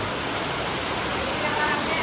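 Steady, dense hiss of heavy rain pouring down, constant and close, with no voices.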